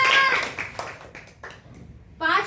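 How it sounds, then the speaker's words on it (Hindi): A crowd at a village council meeting claps to welcome the secretary. Dense clapping is loudest at first and then thins out, and a voice comes in at the end. "जोरदार तालियों के साथ उनका स्वागत कीजिए।"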